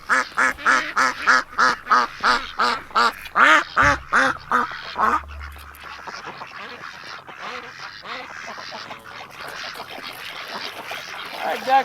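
Ducks on a farm quack in a fast, loud run of repeated calls close by, then settle into softer, scattered chatter over steady background noise.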